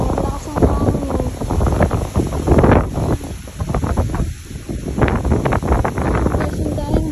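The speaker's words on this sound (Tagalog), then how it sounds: "Lakas ang hangin." Strong wind buffets the microphone in gusty bursts in an apple orchard, with waves of rushing noise rising and falling while a person talks over it.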